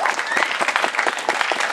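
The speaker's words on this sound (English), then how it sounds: "Round of applause" Steady applause from an outdoor political rally crowd in Concord, New Hampshire, dense clapping filling the whole moment at close to moderate distance, no speech over it.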